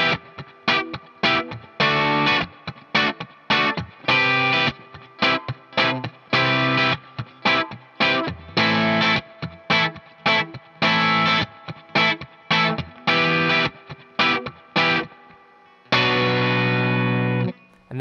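A distorted electric guitar plays the verse rhythm of a song, with tight, choppy muted strums in a steady groove, ending on a held ringing chord.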